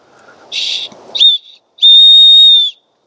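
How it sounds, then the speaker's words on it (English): A shrill emergency whistle from a Leatherman Signal multi-tool sounds in short bursts: a brief breathy blast, a quick chirp, then one long steady piercing tone, loud and close. "pretty loud little emergency whistle"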